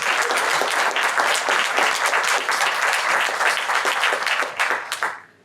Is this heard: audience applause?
yes